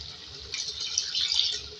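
A cup of water poured into a clay karahi pot of chicken karahi, a short steady splashing hiss that swells toward the end, close and fairly soft with no talking.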